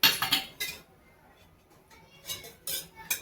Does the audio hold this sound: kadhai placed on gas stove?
yes